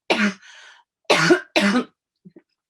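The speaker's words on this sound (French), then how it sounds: "J'ai pas le Covid, mais je tousse quand même." A single short cough followed by two more coughs after a pause, close and clear in a quiet room.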